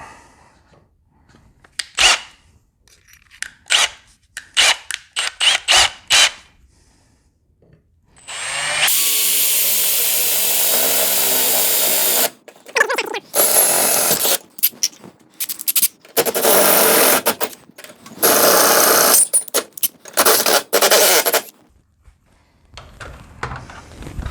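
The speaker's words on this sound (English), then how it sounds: "So we're going to drill this out." A power drill whines loudly in a long sustained run drilling out a hole while reassembling a garage door, preceded by scattered knocks and clicks, then several shorter bursts of drilling, close up.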